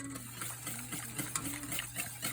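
Stirring food in a pan while cooking, a soft steady scraping and shuffling under a constant low hum, with no voices.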